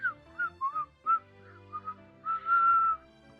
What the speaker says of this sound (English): I turned away and started whistling,